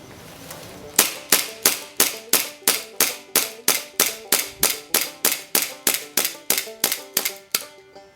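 An airsoft gas-magazine pistol, its magazine warmed by hand warmers, fires a rapid, even string of about twenty sharp shots, each a loud crisp crack that decays quickly, with no talking over it.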